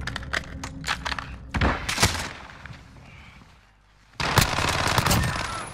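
Video game gunfight with bursts of automatic fire and sharp single shots, loud and close, broken by a quieter lull before another heavy volley.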